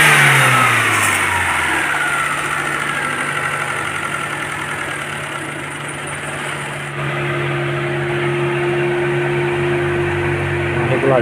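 Fiat Uno 1000 car engine in a repair shop, revving loudly up and down before settling into a steady, close running drone.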